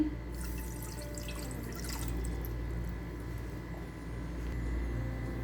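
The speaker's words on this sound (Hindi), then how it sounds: "अब इसमें ऐड करेंगे 1 कप पानी।" A cup of water poured into a small cooking pot already holding half a cup of sugar, for a syrup; a soft, steady liquid wash over a low background hum, fairly quiet and continuous, with no talking.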